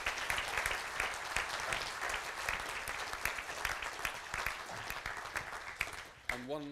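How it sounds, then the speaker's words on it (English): Sustained audience applause, a dense patter of many hands clapping at steady volume, ending abruptly with a brief tonal sound. "I'd like to offer my thanks again and perhaps another round of applause."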